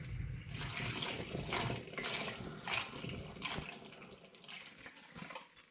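Syrupy summer garden fruit wine mixture pours into a glass demijohn, a close, gurgling liquid rush with uneven glugs and splashes that gradually softens toward the end.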